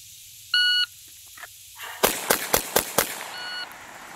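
A pistol drawn and fired five rounds in quick succession, sharp loud reports spaced evenly about a quarter second apart, preceded by a timer beep and quiet shuffling; no talk.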